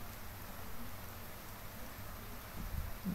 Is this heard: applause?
no